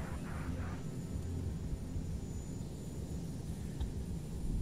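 A spaceship engine runs at full throttle in the space game Evochron Mercenary, a faint, low, steady rumbling drone with no talk over it.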